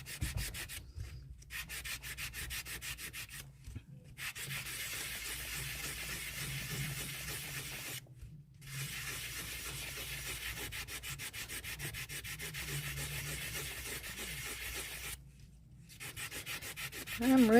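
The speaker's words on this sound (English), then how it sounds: "I'm really sanding it" Steady hand sanding of a UV glitter resin piece, a continuous raspy rubbing hiss in long strokes broken by a few short pauses, close and fairly loud with no talking.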